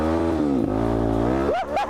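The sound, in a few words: Suzuki DRZ motorcycle engine revving after carburetor repair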